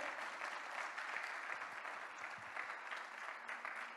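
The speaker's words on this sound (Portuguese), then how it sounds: "Aplaude Jesus bem forte." A church congregation applauds during a sermon, with a dense wash of clapping held steady throughout, somewhat distant and quiet, with faint low sounds underneath.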